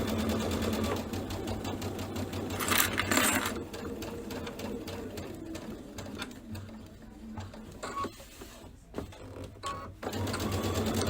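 A sewing machine runs in steady bursts, stitching several layers of a quilted bench buddy project together, its motor buzz stopping and restarting close by with no talk.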